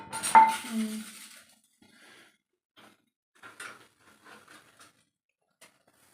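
Food goes onto a plate with a clear clink of dish and utensil at the start, followed by a few faint, scattered taps and scrapes in near silence.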